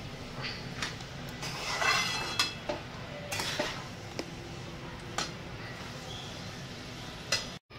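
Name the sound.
mixing veg pulao ingredients in a pot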